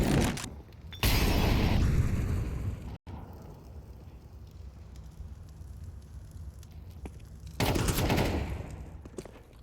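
Gunfire in a Counter-Strike professional match at IEM Dallas 2025 between FaZe and HEROIC, with loud bursts of shots near the start and again near the end, separated by quieter in-game ambience.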